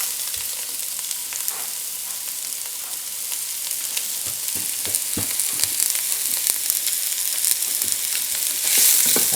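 Onions fry with ginger in a pan for chicken curry, a loud continuous sizzle broken by sharp stirring scrapes and pops, with no speech.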